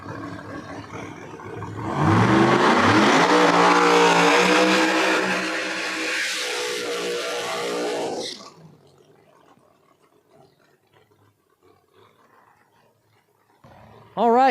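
A no-prep drag racing car roars hard down the drag strip at Flying H for about six seconds, its engine note sweeping upward through the gears, then cuts off and fades. Near the end a short engine revs again.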